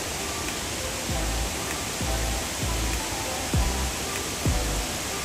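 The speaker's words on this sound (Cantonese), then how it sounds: "可以見到佢其實係由一排大大小小嘅瀑布所組成" Shiraito Falls near Mount Fuji, a broad row of large and small waterfalls fed by spring water from the rock, sending out a steady, full rushing roar with a few soft low thumps scattered through it.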